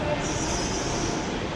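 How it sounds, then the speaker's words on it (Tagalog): Steady, dense ambience inside Puerta de Atocha railway station in Madrid during the holiday season, a constant wash of crowd murmur and rail hall noise at an even level throughout. "Palabas po tayo ng istasyon ng tren."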